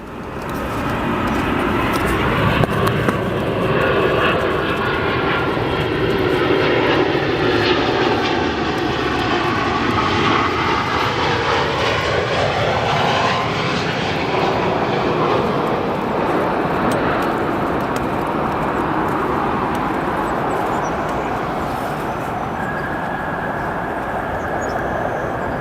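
A KLM Boeing 787-10 airliner at O'Hare airport roars loudly and steadily, its engine rumble shifting in pitch as it passes, with no voices.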